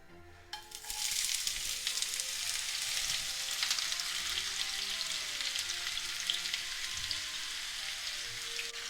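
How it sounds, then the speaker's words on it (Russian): Loud, steady sizzle of onion and carrot hitting hot oil in a frying pan for borscht, starting abruptly and crackling continuously like light rain, with no voices. "Опустим в сковороду лук и морковь."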